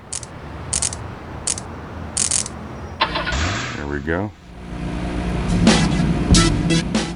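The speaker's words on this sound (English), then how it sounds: "First thing we got to do is" In Grand Theft Auto Chinatown Wars, a car engine cranks and catches, rising into a running idle after a few short electronic beeps; someone speaks briefly over it.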